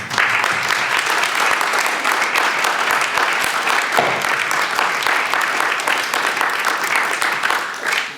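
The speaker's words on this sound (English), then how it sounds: "let's give them a hand again" Loud, dense applause from an audience after a business presentation at the Europrix event, continuous many-handed clapping sustained for several seconds without talk.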